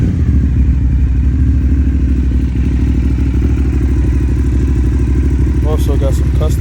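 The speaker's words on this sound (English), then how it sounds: "This is a customized Dosadora Aprilia 750 cc's." A customized red and black 2009 Aprilia Dorsoduro 750 cc motorcycle engine idles with a steady, loud low rumble throughout, with brief clatter near the end.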